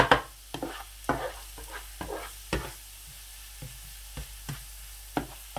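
Garlic and ginger paste fries with onion in hot oil, with a soft sizzle beneath irregular knocks and scrapes of a spoon stirring the pan, close and fairly quiet.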